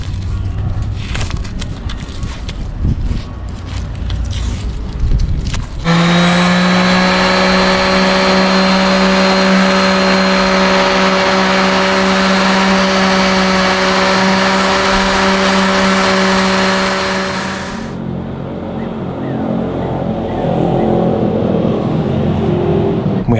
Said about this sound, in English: probably sand some of this excess off right now, get rid of the tape.